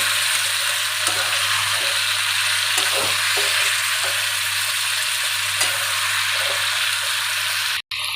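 Amaranth stem and pumpkin curry with sugar sizzles steadily in a pan as it is stirred, giving a loud, continuous frying hiss with faint periodic scrapes and no voices.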